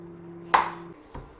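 A knife cuts the hard core from half a cabbage on a board, giving one sharp, close, crunching cut and then a softer second tap, alone and fairly quiet.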